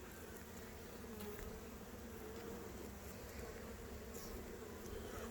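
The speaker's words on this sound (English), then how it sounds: "And look at all the bees." Honeybees buzzing around an open hive frame with capped cells of nectar, a steady dense drone of many bees close by, faint and continuous with no voices.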